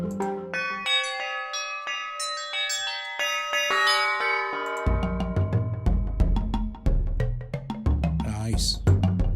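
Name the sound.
Theremin bells synth preset in GlitchStep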